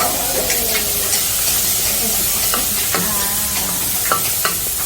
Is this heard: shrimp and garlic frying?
yes